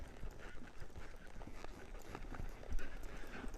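A horse trots steadily around a small circle, its hooves landing in a quick, even clip-clop rhythm over a soft, noisy background with no talking.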